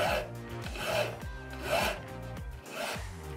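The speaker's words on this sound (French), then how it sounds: "Ensuite, je vais venir élimer à plat." A hand file rubbed flat across 925 silver earring wire for hoop earrings, four close, rhythmic rasping strokes, each swelling and fading.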